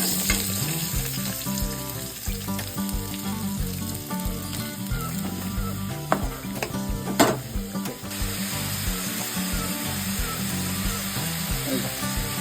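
Sliced onion frying in a pan, a steady loud sizzle with occasional stirring clinks and scrapes, close and continuous throughout.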